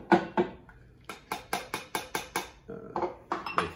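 Blueberry fizz cocktail strained through a bar strainer, giving a quick run of about a dozen sharp, evenly spaced metallic shakes and taps, close and fairly loud, with no talking.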